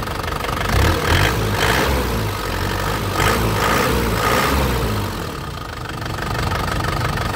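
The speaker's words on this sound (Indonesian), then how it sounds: "Ini suara mesinnya ya." A warm 2010 Isuzu Panther LV Turbo diesel idles steadily nearby, a deep, even rumble with a slight knocking clatter that holds a constant level throughout.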